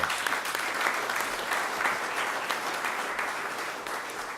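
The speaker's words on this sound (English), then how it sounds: "Let's give them a round of applause." An audience gives a full round of applause at a governor's announcement of an industrial expansion at the Port of Little Rock, a thick continuous crowd clapping that stays loud and steady.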